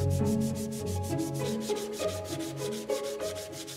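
Varnished wooden furniture is hand-sanded with 120 grit sandpaper, a rhythmic rasping scrub repeating in quick, even back-and-forth strokes, close and steady with no talk.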